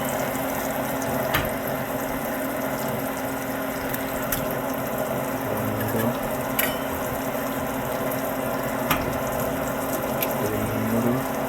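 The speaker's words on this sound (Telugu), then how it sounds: "ఎగ్స్ అయితే యాడ్ చేసుకుంటున్నాను." Eggs sizzle steadily in a hot pan for spicy egg bhurji, a constant frying hiss with a few sharp taps as each egg is cracked in, and no talking.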